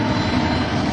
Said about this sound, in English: That engine is spooling up.